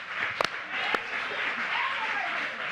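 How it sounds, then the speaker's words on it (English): A church congregation claps during a praise service, a soft diffuse patter of many hands with a couple of sharper nearby claps, fading into a steady murmur of crowd noise. "Clap one more time."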